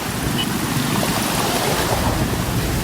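Knee-deep floodwater rushes over a highway after rain in Tamil Nadu, heard as a loud, continuous broadband roar with wind buffeting the microphone. No one talks.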